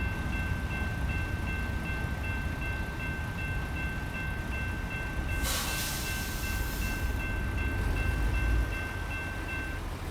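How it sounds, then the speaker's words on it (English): A long freight train rolls past in American Truck Simulator, a steady, loud rumble of rail cars with a brighter hiss swelling midway through, running continuously. "A proper length train like this. Just adds to the realism."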